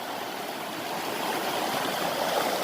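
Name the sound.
river running high after rains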